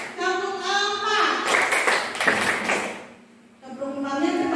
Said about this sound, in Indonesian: Coba tepuk 1, tepuk 2, tepuk 3, tepuk 4.